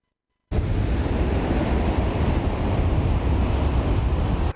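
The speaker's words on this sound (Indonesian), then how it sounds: "ombak pantai Amban Manokwari tidak kalah menarik dari tempat surfing lainnya yang ada di Indonesia" Ocean surf rolls in at Amban beach in Manokwari, West Papua, a steady, loud, unbroken wash of breaking waves with gusty wind buffeting the microphone throughout.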